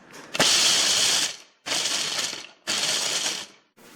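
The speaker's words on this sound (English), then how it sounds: "The first thing we'll do is grind the 200 grams of nuts." Nuts being ground into powder for a gluten-free black forest cake, three loud whirring bursts from a grinder, each about a second long with brief pauses between.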